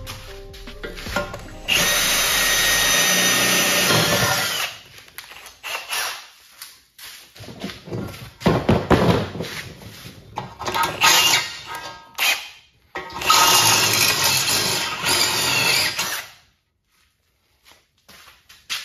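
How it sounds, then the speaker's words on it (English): A power drill with a 3/8 bit boring through metal on a Honda Civic trailing arm project, loud and near, running in several long whining bursts separated by short pauses and handling clatter. "I'm just gonna use a 3/8 drill bit to drill through that"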